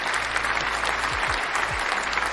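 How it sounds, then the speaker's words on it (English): A crowd claps in a steady burst of applause, loud and dense for a couple of seconds, with no voices over it. "I gotta give you a round of applause"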